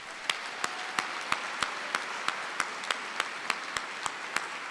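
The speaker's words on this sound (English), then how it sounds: "Let us applaud these two outstanding faculty." Applause from the audience at a college graduation ceremony, steady, moderately quiet clapping with an evenly spaced series of sharper claps cutting through the wash.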